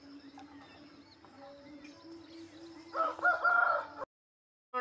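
A rooster crows once, a strained call rising near the end, heard faintly against a quiet outdoor background with a steady hum.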